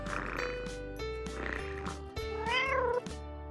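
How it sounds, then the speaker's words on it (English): A cat meows several times near a house, with drawn-out, rising and falling cries over a steady low background hum. "The cat is staying close to the house."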